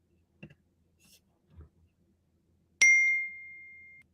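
A phone alert ping sounds once, a bright sharp chime that rings out and decays slowly, following a few faint soft knocks in a quiet room.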